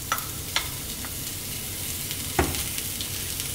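Chopped garlic and sliced onions with bacon hit hot olive oil for a creamy bacon pasta sauce, giving a steady close sizzle with sharp crackles and a louder pop as they land and are stirred, no voices.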